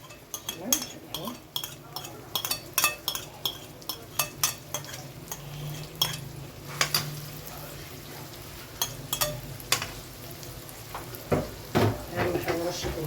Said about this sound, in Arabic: خلاص الزيت عندي هيتقدح اهو. هنزل بقى البصلاية بتاعتي كده.